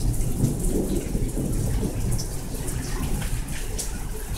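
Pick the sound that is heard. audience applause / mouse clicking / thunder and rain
thunder and rain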